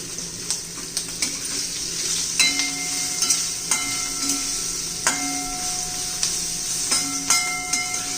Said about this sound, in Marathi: मिरच्या तेलामध्ये परतून घ्यायच्या